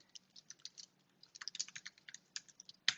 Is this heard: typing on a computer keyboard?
yes